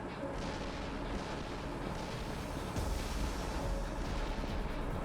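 Explosions in the video game Like a Dragon: Infinite Wealth, a continuous rumbling roar of blasts with a heavier low boom midway, loud and dense throughout with no clear pauses.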